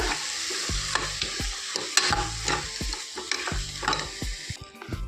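Chana and tomato are stirred in a sizzling frying pan. A spoon scrapes and knocks against the pan in irregular close strokes over a soft, constant fry, with no talking.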